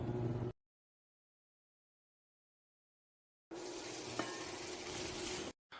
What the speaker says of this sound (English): I've been stir-frying for about 10 minutes